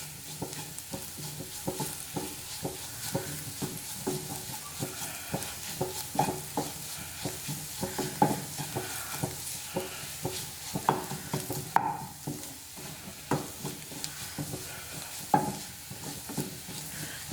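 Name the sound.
spice powders sautéing in coconut oil, fish curry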